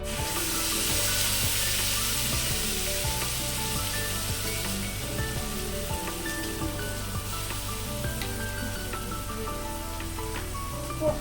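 Potol posto, pointed gourd with poppy seed paste and turmeric, sautéing in a pan, giving a dense continuous sizzle and crackle that stays loud and even throughout with only faint clinks, and nobody speaking.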